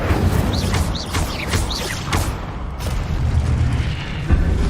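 Incendio fire spell cast in a Harry Potter video game: loud rushing, roaring bursts with several quick whooshing flares, packed into a continuous, noisy combat mix.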